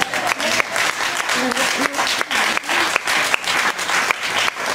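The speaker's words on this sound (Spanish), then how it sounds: "darle un aplauso a Dios" Loud, sustained applause from a church congregation, with rhythmic clapping bursts and voices mixed in underneath.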